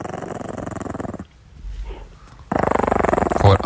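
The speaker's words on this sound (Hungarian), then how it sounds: "Horkol a kutya." A small dog snoring loudly and close by, in fast rhythmic rasping pulses. A quieter lull in the middle is followed by a stronger run of snores.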